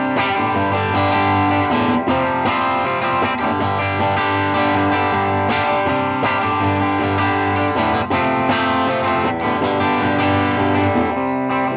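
Electric guitar played through an Ibanez TSA5TVR Tube Screamer amplifier, boosted with the reverb off, with loud, continuous overdriven chords and riffs sounding thick and distorted throughout, with no talking.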